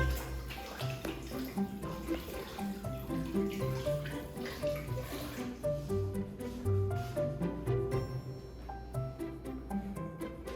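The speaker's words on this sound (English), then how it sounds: "Then wash my hands." Kitchen tap water runs steadily into a sink during hand washing while baking cookies, a continuous nearby splashing stream with light clatter.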